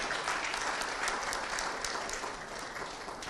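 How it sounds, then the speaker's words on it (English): An audience at a business forum on Ghana–China agreements gives a round of applause, a dense, continuous clapping from many people that stays loud throughout and tapers slightly toward the end. "Let's hear a round of applause for them."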